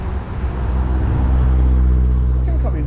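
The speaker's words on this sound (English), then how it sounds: "Got a car coming behind." Car approaching from behind on a steep uphill road, a loud, close, swelling engine rumble that builds steadily while a person speaks over it.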